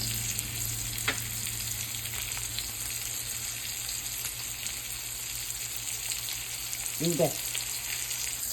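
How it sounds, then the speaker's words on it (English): Food frying in butter in a pan, a steady close hiss of sizzling with a brief soft clatter as it is flipped, and a voice speaking briefly. "Okay, I flipped it over to the other side."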